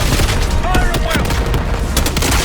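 Heavy gunfire from a Call of Duty Black Ops 6 cutscene: loud, dense bursts and booming shots fill the whole stretch, with voices faintly mixed in.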